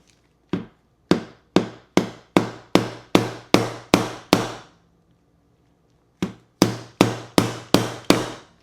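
Hammer blows strike sharply in two bursts, about eight evenly spaced hits, a pause, then six more, loud and close with quick decay, no talking.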